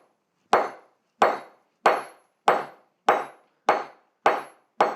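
A blacksmith's hammer strikes welded iron and steel to square off the edge of a tool. Eight sharp, evenly spaced blows ring out loud and close, each one dying away before the next.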